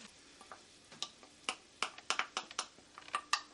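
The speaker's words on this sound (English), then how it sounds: "We'll stir in our fresh cilantro, and that is Cuban mojo sauce." A spoon taps and scrapes lightly through Cuban mojo sauce as fresh cilantro is stirred in, producing sparse, faint, irregular ticks and clicks up close.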